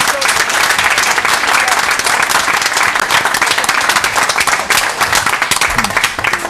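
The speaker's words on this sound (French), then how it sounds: "peut peut-être se joindre aux applaudissements." Sustained, loud applause from a studio audience on a Swiss French-language talk show, dense steady clapping filling the whole stretch with no talk over it.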